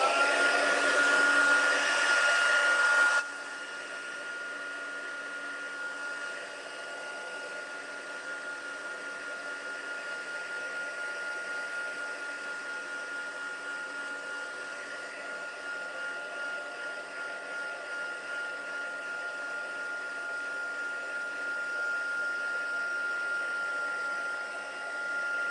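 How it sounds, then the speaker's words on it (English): A dryer blows heat over embossing powder on a stamped card, making a steady whirring drone with a faint high whine. It starts louder for the first few seconds, then runs on evenly for a long stretch. "Or you can use your dryer."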